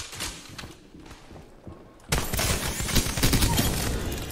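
Gunfire in the shooter game Apex Legends, faint scattered shots at first, then a sudden loud, sustained barrage of rapid fire filling the rest of the moment.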